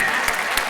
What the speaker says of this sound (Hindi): भाई भरपूर तालियां